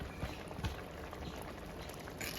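A Kerala-style fish curry with mango and thickened chilli masala simmers in a pot, giving a soft, steady bubbling hiss with a few faint pops, low and continuous.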